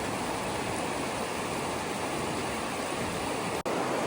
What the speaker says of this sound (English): Snow melt water.